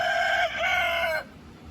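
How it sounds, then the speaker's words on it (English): Rooster crowing from indoors, a single drawn-out call ending abruptly, moderately loud and slightly distant. "crowing from inside because he knows I'm talking"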